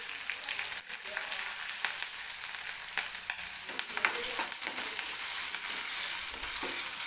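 Onion frying in a pan with curry leaves and green chilli, a continuous crackling sizzle broken by scraping stir strokes, moderately close and with no voices over it.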